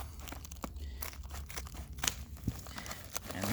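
Scissors cut open a package close up, with crinkling, crunching plastic and snipping in an irregular series of small crackles, fairly quiet and without talk.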